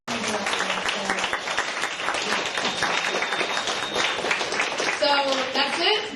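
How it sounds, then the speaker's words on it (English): Sustained applause from a student senate meeting audience, dense clapping filling the whole stretch at a steady, fairly loud level. "give a big round of applause to every single person"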